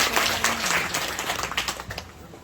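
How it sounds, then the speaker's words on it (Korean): Audience applause at a neighborhood redevelopment residents' briefing, as resident participants stand to greet the room; steady, dense clapping from a crowd fills the whole stretch at moderate level with no talk over it. "박수 부탁드리겠습니다"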